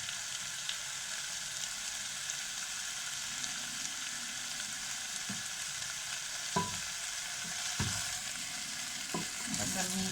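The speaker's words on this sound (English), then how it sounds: "the meat will get seared nicely" Turkey meat searing in a pan for goulash: a steady, close broadband sizzle of frying that continues throughout, with occasional clinks and scrapes of stirring, no talking.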